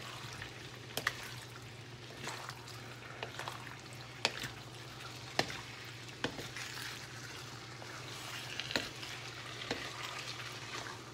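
Chicken afritada with tomato paste is stirred in a pan, a low, quiet simmering sizzle punctuated by sharp scattered clicks of the spoon against the pan over a steady hum, with no talking.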